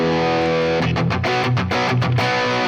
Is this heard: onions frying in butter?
no